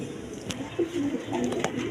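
Crested pigeons at a pigeon seller's stall giving soft, low coos, a few brief calls over a steady murmur, with sharp clicks and knocks in between.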